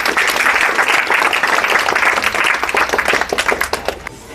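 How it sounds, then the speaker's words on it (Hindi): A crowd at a library inauguration ceremony in a village claps loudly and continuously, a dense wash of applause that thins into scattered individual claps toward the end. "जोरदार तालियां"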